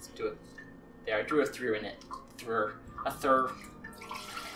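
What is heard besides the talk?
water rinsing rice in a bowl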